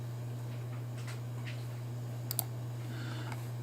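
A computer mouse clicks on OK in a Word 2019 dialog. A few faint, sharp clicks stand out over a steady low hum, with a brief louder double click near the middle and no talk.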